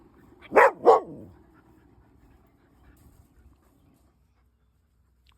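A dog outdoors in a garden at watering time gives two loud, close barks in quick succession, followed by quiet with faint panting and rustling.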